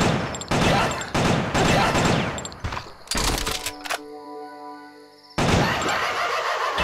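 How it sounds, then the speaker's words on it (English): Rapid bursts of gunfire from a pair of small handguns in the video game Killer 7, loud and close, with several volleys separated by short gaps and a brief stretch of ringing game sound in between. "So Khan's got those two little guns, he's like bam, bam, bam"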